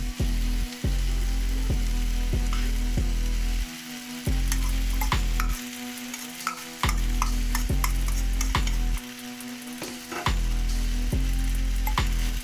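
Rice vermicelli filling tossed and stirred in a hot frying pan, a steady loud sizzle broken by repeated scraping strokes of a utensil and short pauses where the frying drops out.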